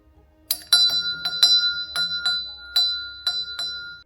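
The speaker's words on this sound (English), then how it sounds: "outside in the coach house, one of the original manual call bells still exists" Original manual servants' call bell in a coach house, rung in a quick irregular series of bright metallic strikes whose tones ring on and overlap, close and clear with no voices.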